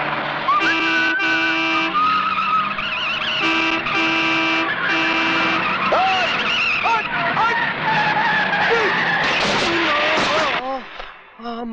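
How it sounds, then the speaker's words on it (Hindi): Car horn blasts and tire skidding from a film scene on a highway, with long sustained honks layered over screeching tires and swooping tonal squeals, loud and close, ending abruptly in near silence. "हॉर्न बजाना सुनाई नहीं दे रहा क्या?"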